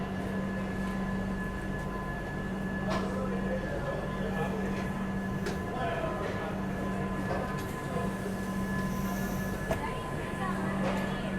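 The Tirumala Express passenger train running from Kadapa station, a continuous low rumble with a steady hum and occasional sharper clanks, heard from inside, with faint voices under the noise.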